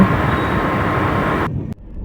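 Passenger train running from Kolkata to Bombay, a steady loud rumble of the carriage throughout that cuts off sharply near the end and drops to a quieter hum.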